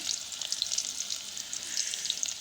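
Chopped onion frying in a pan over a fierce clay stove, a steady bright crackling sizzle with dense popping, close and alone without voices.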